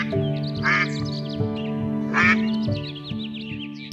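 Cartoon ducks in a forest quack in repeated nasal bursts, a few loud close calls spaced about two seconds apart amid softer chattering quacks, over light background music.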